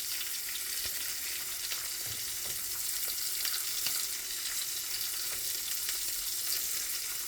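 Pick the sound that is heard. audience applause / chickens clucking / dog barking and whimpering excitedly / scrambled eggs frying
scrambled eggs frying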